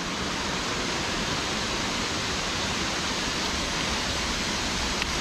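Grotto Falls in the Great Smoky Mountains gives off a constant, loud, even roar of falling water with no talking over it.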